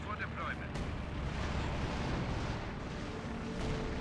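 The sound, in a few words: incendiary artillery barrage in the video game Company of Heroes 2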